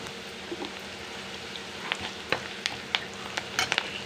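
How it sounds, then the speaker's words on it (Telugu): Onions frying in a pan with chili powder crackle and sizzle close up, with scattered sharp pops and spatters growing busier toward the end over a steady frying hiss. "ఉల్లిపాయలు అయితే వేగిపోయినాయి. ఇప్పుడు కొంచెం కారం వేసుకోవాలి."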